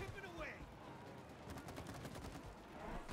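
Gunfire while shooting X targets on a big machine in It Takes Two, a quick rattling run of rapid shots in the middle, fairly faint, with voices talking around it.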